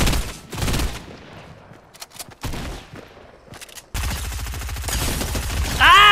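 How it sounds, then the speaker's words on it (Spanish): An EP5 submachine gun firing in Fortnite Chapter 2 on Nintendo Switch, heard as short bursts and scattered shots with quiet gaps, then a louder sustained burst of rapid fire toward the end. "Cómo peta el subfusil, chavales."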